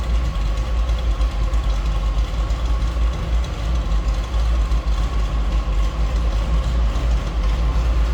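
A 1960 Ford F-100 pickup with an electronic fuel injection engine idles steadily, a continuous low rumble running evenly throughout with no talking.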